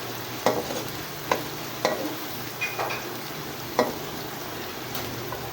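Khichdi ingredients frying and being stirred in a pan, a steady sizzle with spoon scrapes and knocks at roughly one-second intervals, close and alone.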